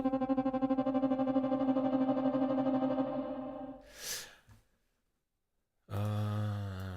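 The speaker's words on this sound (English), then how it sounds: "mod wheel adding a lot of reverb" A sustained, buzzing organ tone from the Triumph Audio Organ Obscura instrument, with heavy reverb added by the mod wheel, pulses and then fades into a washy tail, followed by silence and a new loud, reverberant chord.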